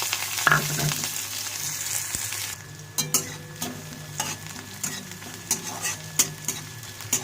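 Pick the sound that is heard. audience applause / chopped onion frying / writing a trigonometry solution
chopped onion frying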